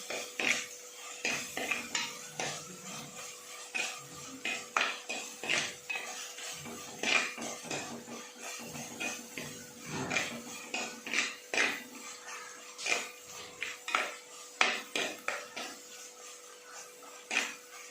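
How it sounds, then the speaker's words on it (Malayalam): Utensil stirring Kottayam-style fish curry in a pan over low heat, with repeated metallic clinks and scrapes in an irregular rhythm, close and fairly quiet, no voices. "തീ ചെറുതായിട്ടൊന്ന് കുറച്ച് വെച്ചിട്ട് നമുക്കൊന്ന് കൈയെടുക്കാതെ ഒന്ന് ഇളക്കി കൊടുക്കണം."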